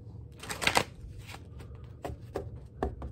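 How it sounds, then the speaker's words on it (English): A deck of playing cards is riffled and shuffled close up in a few quick bursts, crisp fluttering snaps separated by short pauses over a low background hum. "Get another shuffle."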